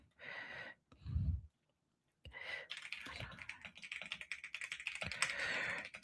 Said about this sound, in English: I like to type.